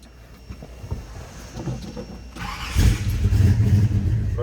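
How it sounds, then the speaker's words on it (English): A 1972 Chevrolet C10 shortbox pickup engine catches after a moment and settles into a steady, loud running rumble close by, with no talking over it. "Let's go ahead and start it up so you can hear it run."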